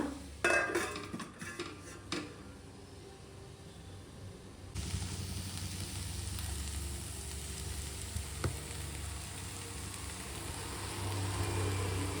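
A few metal clinks ring out on a pan cooking javli kayi palya (cluster bean stir-fry), then a lid closes over it, and a soft, steady sizzle continues underneath.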